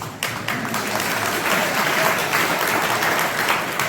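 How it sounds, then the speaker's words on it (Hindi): Soft applause from an audience at a religious discourse, a steady patter of many hands clapping continuously with no speech over it. "अब ताली धीरे से बजाएं।"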